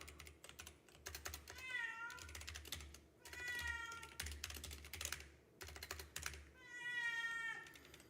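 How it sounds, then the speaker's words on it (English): A pet cat meows repeatedly for attention, three drawn-out insistent cries spaced a few seconds apart, close to the microphone over steady computer keyboard typing. "I have a cat who wants some attention desperately"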